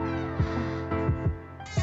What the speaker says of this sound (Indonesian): Jika kita ingin membuka dan menutup pintunya berbunyi seperti tikus kejepit seperti